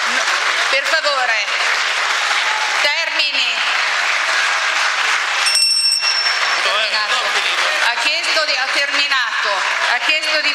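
Applause fills the Italian Senate chamber during a confidence-vote debate, a dense, steady clatter of clapping that runs throughout, with voices talking over it and a brief bell-like ring midway.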